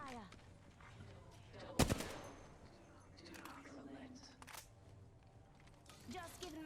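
Gunfire in the shooter game Apex Legends, with one loud sharp burst standing out over a busy battle soundscape of scattered quieter shots and effects, while a voice speaks over it.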